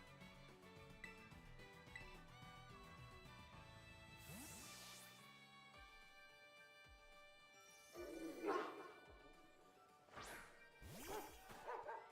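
Dog Pokémon barking in Pokémon Violet, a few sharp yips and barks rising over a bed of game music, loudest near the end.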